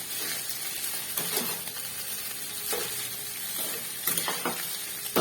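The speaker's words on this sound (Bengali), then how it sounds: "এবার এটাকে আমি নাড়বো কিছুক্ষণ" Chowmein tossed with vegetables in a hot frying pan, with a steady sizzle broken by repeated scraping and clattering stirring strokes, close up and without talk.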